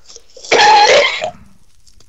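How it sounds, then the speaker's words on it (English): A single rough, nasty cough bursts out close by, a harsh throaty hack lasting under a second before trailing off into quiet. "Man, Poet, was that you with the nasty cough?"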